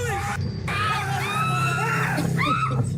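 A paranormal investigation crew screams in sudden panic as a door swings open by itself, several high shrieks and yells overlapping in a short, loud burst.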